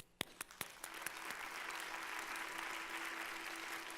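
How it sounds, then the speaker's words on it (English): Applause at an arts summit introduction, starting with a few sharp individual claps close by and quickly filling into dense, sustained clapping from a large audience. "a round of applause to all of those who make this possible"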